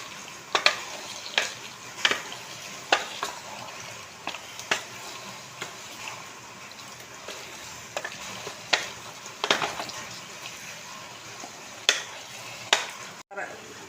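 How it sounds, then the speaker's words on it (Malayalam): A spoon scrapes and clacks against a pot as chicken biryani is stirred, sharp knocks falling at an uneven rhythm over a soft background hiss. "നന്നായിട്ടൊന്ന് ഇളക്കുകയാണ്."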